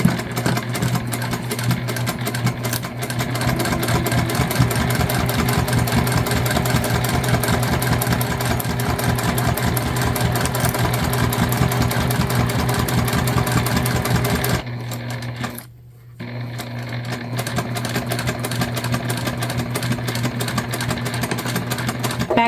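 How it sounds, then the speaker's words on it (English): A sewing machine stitching tote bag pieces together with a 1/4 inch seam, a loud rapid steady run of needle strokes that pauses briefly for a backstitch before running on again. "we're just going to use my fave stitch, which is 1/4 inch. And we're going to sew them together."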